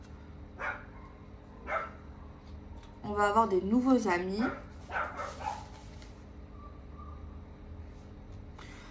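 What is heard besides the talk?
dog barking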